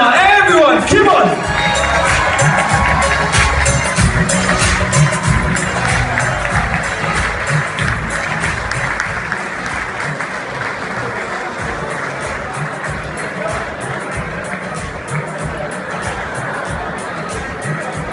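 Audience at an evening event in the Marriott Grosvenor Square hall applauding and cheering for an honoured guest, a loud continuous wash of clapping and crowd noise that stays steady throughout, with chatter mixed in.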